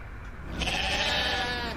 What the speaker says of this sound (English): so this is sheep